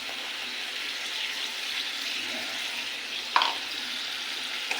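Rohu fish curry with whisked sour yogurt and poppy seed paste frying in a pan: a steady, moderately quiet sizzling hiss throughout, broken once by a sharp clink of a utensil near the end.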